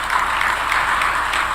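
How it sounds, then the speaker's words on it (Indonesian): Brief, steady wash of applause from a crowd at a public address in West Java, sustained and fairly loud for its short length. "Tepuk tangan."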